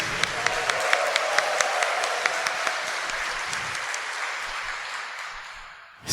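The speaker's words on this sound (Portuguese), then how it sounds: "dê uma salva de palmas para ele" A church congregation applauds at a Sunday Mass, steady dense clapping from many hands that gradually thins and fades before a final burst.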